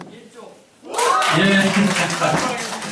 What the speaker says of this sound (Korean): 두 조도 같이 박수를 주시면 좋겠습니다